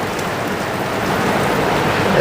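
Heavy rain splashes steadily in a continuous loud hiss, with water spraying in against a shop's shutter and no clear breaks throughout.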